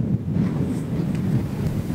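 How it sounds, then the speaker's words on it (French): Strong wind buffets the microphone on Iceland's westernmost sea coast, a close, low, rumbling roar that surges in gusts over about two seconds, with no voices. "Il y a un vent de dingue."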